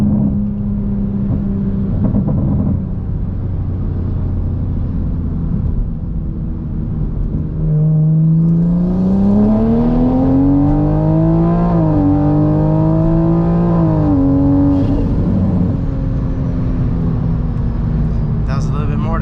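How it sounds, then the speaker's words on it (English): A turbocharged Toyota Supra MK5 with a Remnant Performance turbo kit on low boost pulls in third gear on a street, its engine note climbing steadily and loud, with voices talking over parts of the run. "Gonna try to do a third gear here."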